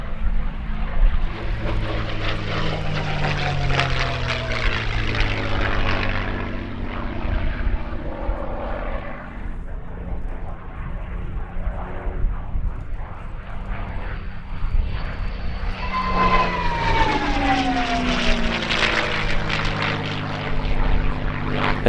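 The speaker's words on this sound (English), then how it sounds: "here's Peter Teichmann in his P-51D Mustang in the colours of the Tuskegee Airmen" A P-51D Mustang in Tuskegee Airmen colours displays at the RAF Cosford airshow, its propeller engine a loud, sustained roar and drone whose pitch rises and falls as it passes overhead.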